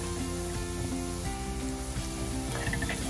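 Ginger sautéing in a pan until brown for a Kerala puli inji curry gives a steady, dense sizzle that holds close and even throughout.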